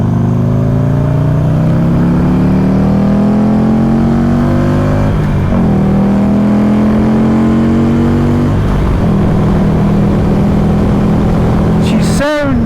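Buell XB9 naked motorcycle on a test ride, its V-twin engine droning loud and close with rising revs, two gear-change dips, and a sharp rev near the end, under wind rush.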